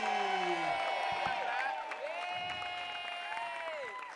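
An audience applauds and cheers for a singer at a live stage show, a sustained wash of clapping with whoops and raised voices over it.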